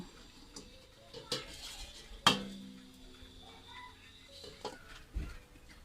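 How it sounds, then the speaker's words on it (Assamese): Jujube pickle being stirred in oil in a pan, with a few sharp utensil clinks and scrapes against the metal spaced through an otherwise quiet stretch, close and fairly faint. "ভালকৈ অলপ লৰাই ল'ম মই তেলত"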